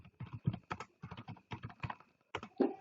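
Rapid bursts of key taps on a computer keyboard as a name is typed, clattering in quick clusters separated by short pauses, close and clear with no talking.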